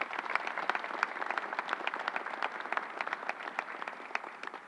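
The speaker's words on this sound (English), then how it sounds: "Let's give him a round of applause." Steady applause from a crowd at an Andrew Cuomo public event, dense clapping throughout at a moderate, even level.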